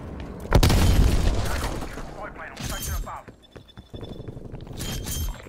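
A grenade detonates in Call of Duty: Black Ops Cold War, a sharp loud boom with heavy low rumble, followed by debris and mixed game gunfire and effects while a voice talks through much of it.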